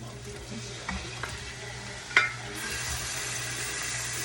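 Garlic, onion and pork sautéing in a pan for Filipino mung bean stew, a soft steady sizzle with a few faint clinks of a utensil stirring.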